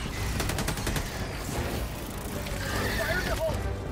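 Gunfire aimed at bugs in the shooter Helldivers 2, with a rapid burst of shots early on that then settles into a steady, dense din of combat noise. Voices and other game sounds are mixed in throughout.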